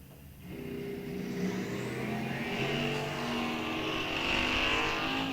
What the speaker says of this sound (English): Couple of F stock automatic cars here with the Peesh family.